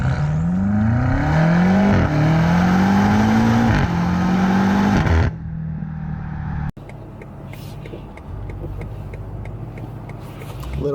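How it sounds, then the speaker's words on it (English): A BMW M8 Competition accelerates hard through several gears, its engine note rising in loud sweeps with brief dips at each shift, then settling into a quieter cruise with road noise. "Little acceleration here."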